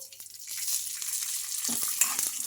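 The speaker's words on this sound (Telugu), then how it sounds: "ఈ మిర్చి కూడా ఈ పల్లీలతో పాటు బాగా ఫ్రై చేసుకోవాలి" Peanuts, ginger, garlic and green chillies fry in oil with a close, crackling sizzle, with a few stirring scrapes and clicks from a spoon in the pan and no voices.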